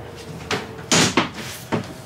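Metal cabinet doors in a storage locker bought at auction are worked open and shut, giving several sharp clunks and one louder bang at close range, with faint rattling between impacts.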